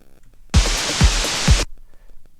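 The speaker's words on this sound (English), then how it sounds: "I'm going to add some white noise" A burst of broadband hiss, white noise added in Ableton, lasting about a second, with three low thumping kicks pulsing beneath it before it cuts off.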